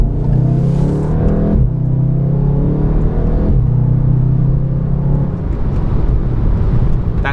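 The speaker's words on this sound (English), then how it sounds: "That turbo sounds really sweet." A VW Golf R with a Neuspeed power module accelerates hard, its turbo engine rising loud and close in pitch through several gear pulls, each followed by a brief drop, with no talk.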